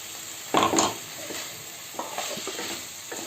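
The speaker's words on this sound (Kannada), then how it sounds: "ಈಗ ಇದ್ರೊಳಗೆ ಕೊಬ್ಬರಿದ ಮಿಶ್ರಣ ಹಾಕ್ತಾ ಇದ್ದೇವೆ" Coconut mixture added to drumstick curry in a hot pan: a soft splat and sizzle, then scraping stirs with a spoon against the pan, close and fairly quiet, with no talking.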